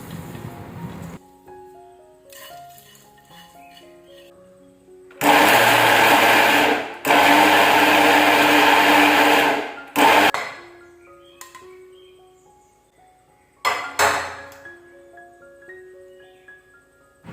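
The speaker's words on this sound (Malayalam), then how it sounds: "അങ്ങനെ ഞാനിതാ ബാക്കിയുള്ളതും കൂടെ പൊടിച്ചെടുക്കുകയാണേ" A mixer grinder grinds the last of the spices to powder in loud, steady whirring bursts of a few seconds each, separated by pauses, with soft background music between runs.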